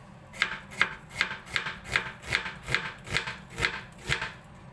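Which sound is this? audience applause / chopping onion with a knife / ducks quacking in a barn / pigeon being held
chopping onion with a knife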